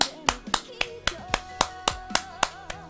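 Hands clap about ten times in a steady, fairly quick rhythm, each sharp crack standing out over a soft musical background from an anime ending.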